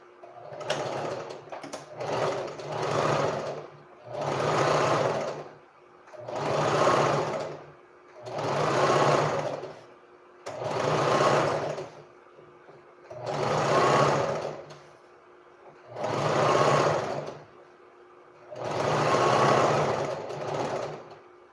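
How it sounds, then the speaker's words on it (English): A sewing machine top-stitching an Ankara long skirt runs in about nine steady bursts, each a couple of seconds long, with short pauses between them. It is close and fairly loud, and no voices are heard. "So I'll top stitch again because it didn't top stitch before."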